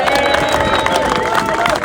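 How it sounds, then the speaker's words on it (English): Warm round of applause for a hospitality speaker at a farmers' event in Liverpool: dense, steady clapping from a large crowd with cheering and babble mixed in, loud and continuous throughout. "Give him a warm round of applause"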